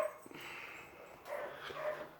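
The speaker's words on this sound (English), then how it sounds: "That would be the dog." Lucy, a pet dog in a pipe-carving workshop, barks and whimpers faintly in the background with soft yips across a couple of seconds, no one speaking.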